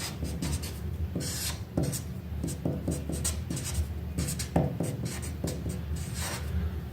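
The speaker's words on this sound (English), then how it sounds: "I'm writing a general reaction." A general chemical reaction is written out by hand with a pen, producing close, continuous scratchy strokes in quick bursts over several seconds with no talking.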